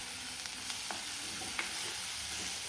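Onion and tomato sizzle and fry steadily in a hot pan, with occasional light stirring scrapes over the continuous hiss.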